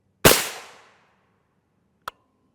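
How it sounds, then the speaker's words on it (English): A single M80A1 rifle round fired from a 10.5-inch short-barreled rifle at an armor plate, one sharp, loud, close crack with a quick decaying echo, followed about two seconds later by a brief faint click. "We'll take the M80A1 shot first."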